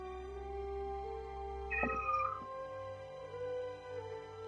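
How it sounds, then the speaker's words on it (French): A small cat meows faintly in the background during a Catan board game, with one drawn-out meow partway through over a quiet, tonal room hum. "Toujours un petit chat en arrière qui fait."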